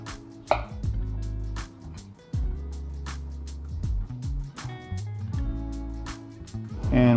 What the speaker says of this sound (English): you can either cut your bananas into chunks or you can just do little slices like I'm gonna do